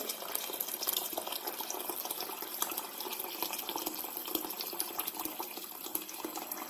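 About two litres of water pour steadily into a pot for flour soup, a continuous close gushing splash with no talk over it.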